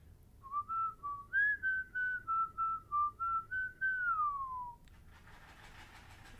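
Someone whistles a slow, wavering melody, a single clear tone stepping up and down, then trailing off before a burst of hiss.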